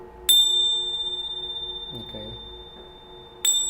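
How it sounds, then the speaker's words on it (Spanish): Tibetan tingsha bells give two bright metallic chimes, one near the start and one near the end, each leaving a long, high, sustained shimmer, with brief murmured speech between them. "Estas se llaman tinchas, son unas campanas tibetanas que tienen un sonido muy agudo."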